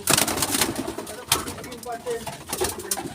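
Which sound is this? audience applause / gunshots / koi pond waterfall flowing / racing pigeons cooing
racing pigeons cooing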